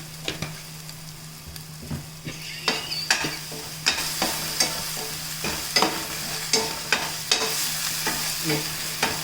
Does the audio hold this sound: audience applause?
no